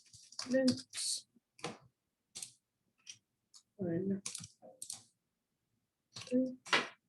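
Bursts of keyboard typing on a computer, quick clicking keystrokes in short clusters separated by pauses, fairly close and moderate in level with no talking.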